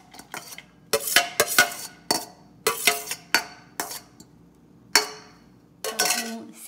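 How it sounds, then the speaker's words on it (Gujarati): Lentil and quinoa salad with seasoning stirred and served onto a plate with a utensil: close, irregular clinks and scrapes of metal on dishware in short bursts separated by brief pauses, with no talking. "પ્રોપર હલાવી લેવાનું અને પ્લેટમાં કાઢી લઈએ."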